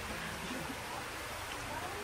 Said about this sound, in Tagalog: so nakikita nyo ba yung ulan?